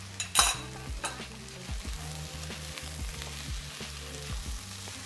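Chicken pieces sizzling and frying in a hot pan for a Chinese sesame chicken dish, with steady crackle and repeated stirring scrapes throughout, loud and close, no talking.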